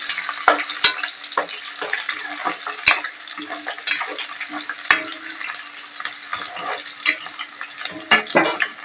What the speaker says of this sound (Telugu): కొంచెం మంట తక్కువ పెట్టుకొని సిమ్లో పెట్టుకొని తాలింపు చేసుకోవాలి